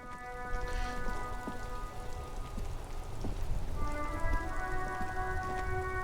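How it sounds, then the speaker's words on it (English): Steady rain falls on a surface in the Disco Elysium video game, a continuous wash of patter beneath sustained tonal music and soft game sounds, with no talking. "Stuck in the rain in a traffic jam, man."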